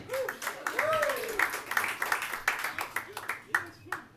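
Crowd at a Portland comedy club show keeps clapping and cheering for a departing comedian, patchy applause with scattered whoops that gradually thins out.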